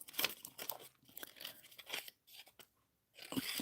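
Green scissors snip through brown paper in a quiet run of crisp, crunchy cuts with brief pauses between strokes, close by.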